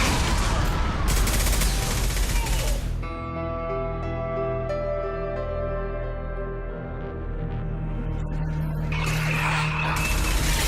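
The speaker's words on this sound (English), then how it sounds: "Taking heavy fire." Gunfire in the shooter Mass Effect 2 crackles in dense bursts, gives way to a sustained musical tone, then returns as heavy rattling fire, loud and continuous throughout with no voices.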